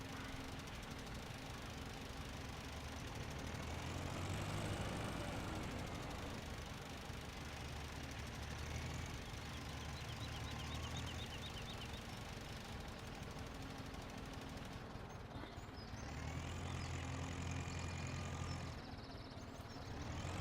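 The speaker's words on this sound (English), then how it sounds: "It's only a very small tractor, this one." Small tractor engine in the farming video game Farming Simulator 17, a steady droning mechanical hum that runs continuously at moderate level, rising slightly in places, with no talk.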